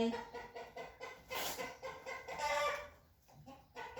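Laying hens cluck repeatedly in short rhythmic bursts, fairly close, with a louder squawk partway through.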